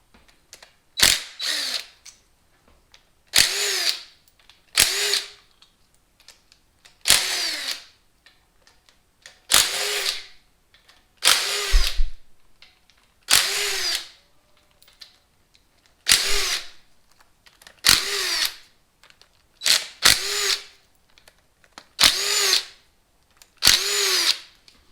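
A power tool fitted with a 10 mm socket runs in about a dozen short whirring bursts, close and loud, with clicks between them as it removes engine cover bolts on a GMC Sierra during a 4.3 to 5.3 engine swap.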